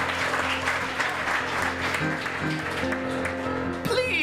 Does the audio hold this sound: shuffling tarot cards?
no